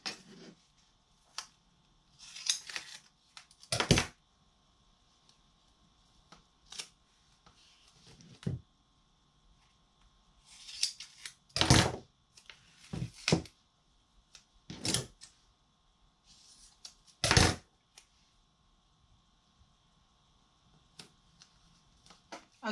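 Scattered sharp taps, crinkles and rustles as tape is pressed onto a DIY placemat craft, coming in brief separate bursts with quiet gaps between them, close up and fairly soft.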